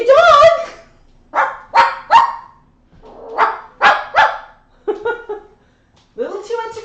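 An excited dog barks repeatedly in short bursts of yips and woofs, close and loud, with whimpery tones between barks.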